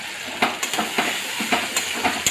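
Ginger-garlic paste frying in a pan, a steady soft sizzle broken by several sharp crackles and spits at irregular intervals, close and moderately loud with no talking.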